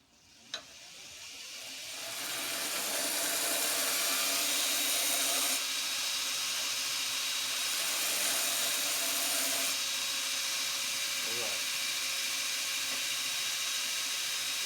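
Knife blade steel ground on a TW-90 belt grinder, the motor spinning up and then a sustained loud hissing roar of belt on metal that holds steady, with no talk.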